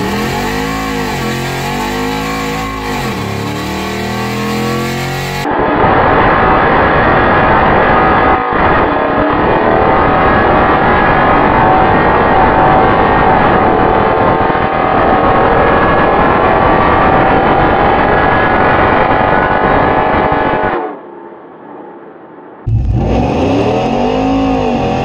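A nitrous-fed, cammed Ram 1500 with a 5.7 Hemi roars loudly through a quarter-mile drag pass, its sustained wide-open engine howl running for about fifteen seconds before dropping off abruptly, then another engine rises briefly at the end.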